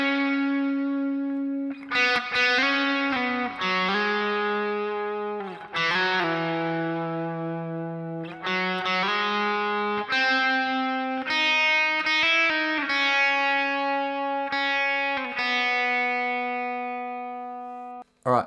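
A distorted electric guitar plays the slow melodic intro riff of a song without a slide. Notes ring out one after another, each held and overlapping, with no voices.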